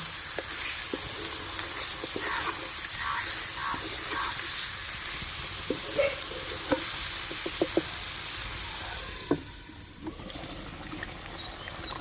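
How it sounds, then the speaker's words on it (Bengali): Chicken pieces sauté slowly over low heat in their own juices, giving a gentle, continuous sizzle with occasional scraping clicks from stirring, fairly close and moderately quiet. "খুব ধিমি আছে এই মাংস কষিয়ে নেব"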